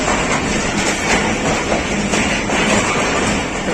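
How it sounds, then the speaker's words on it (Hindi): The 12 Down Hazara Express pulls in at platform five of Rawalpindi station, a steady, loud broadband rumble of rolling wagons with faint rhythmic clatter throughout and no voices. "पाँच नंबर प्लेटफार्म पर 12 डाउन हज़ारा एक्सप्रेस लग रही है रावलपिंडी में।"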